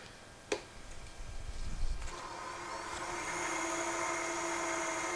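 A wooden pen blank spins on a lathe while sandpaper is held against it, a steady whirring hum with a rising, sustained abrasive hiss after a sharp knock at the start, no voices.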